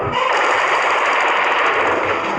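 Gunfire sound effect in a crime documentary about a shooting in Sydney's underworld: one loud, sustained rattling burst that fills the moment, with no talk.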